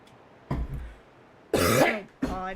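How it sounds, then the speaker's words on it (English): A character coughing in the video game Future Connected, three separate harsh throat-clearing coughs, the last two louder and closer together, with quiet pauses between. "Let him get a realistic cough"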